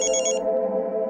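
A telephone rings indoors in a home, a trilling electronic bell pulsing in quick bursts for about half a second and then fading into a steady hum, close and moderately loud with no talk.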